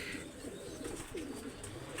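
Soft cooing from Pakistani pigeons, a few low throaty coos rising and falling against a faint background hum, fairly close.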